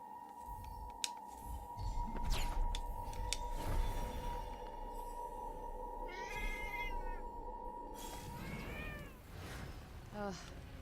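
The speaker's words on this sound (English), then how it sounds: "I assume that is no ordinary cat." Cat meows in the video game Forspoken, several short rising-falling calls at moderate level over a steady tonal game background hum and scattered clicks, with a person talking faintly at times.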